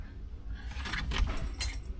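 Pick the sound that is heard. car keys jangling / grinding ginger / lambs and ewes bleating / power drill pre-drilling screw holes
car keys jangling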